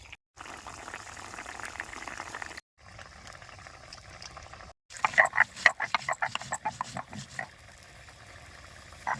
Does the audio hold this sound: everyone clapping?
no